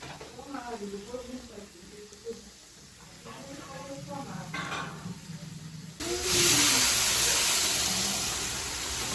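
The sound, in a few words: rice frying with sautéed spices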